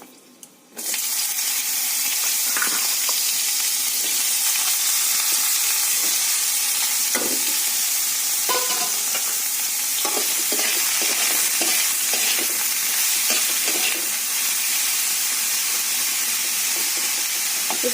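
Sliced eggplant and a dried chilli dropped into hot oil, the pan bursting from near silence into a loud, dense, sustained sizzle with occasional crackles and spatters, no speech.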